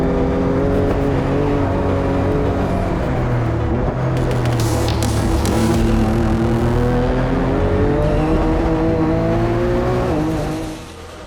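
LYFE Motorsport GT-R race car at a Super Lap Battle event running a hot lap with boost turned up: a loud, close engine drone rising and falling through gear changes, with rapid bursts of higher noise, sustained for the whole stretch before easing off.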